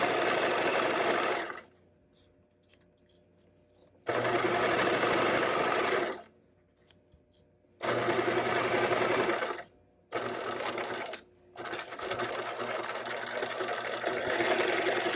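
A sewing machine stitching fabric straps for a caddy bag, with forward and reverse back stitches, runs in five loud, close bursts of steady whirring separated by short quiet pauses.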